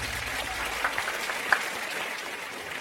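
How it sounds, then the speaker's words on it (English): Audience at a university quiz show between Kenyatta University and University of Nairobi claps for a team's score, a moderate, fairly even spatter of applause with a couple of sharper individual claps standing out. "Kindly, a round of applause."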